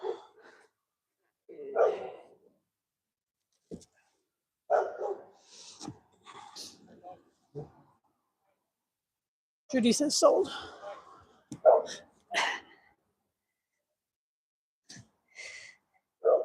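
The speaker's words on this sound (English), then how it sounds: "You can see my dogs communicating with the public." Several dogs bark in short, scattered bursts at moderate distance in a quiet room, with long pauses between them and a person speaking briefly in between.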